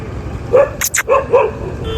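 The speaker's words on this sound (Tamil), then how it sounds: "இங்கே பாருங்க பைக்கில் போகிறவங்கள நாய் துரத்திட்டு போயிட்டு இருக்கு கடிக்கிறதுக்கு" On a rural road in Punjab, a dog chasing passing motorbikes gives several short, sharp barks close by, with a brief burst of noise between them.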